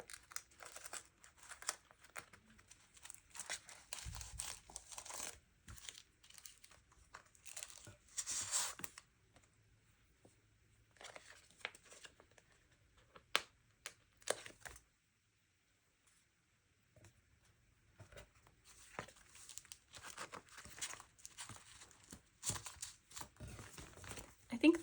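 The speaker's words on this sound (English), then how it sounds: "I also can't resist putting these star stickers everywhere." Star stickers are peeled and placed in a notebook, producing faint, close crinkles, taps and small crackles in scattered bursts with quiet gaps between them.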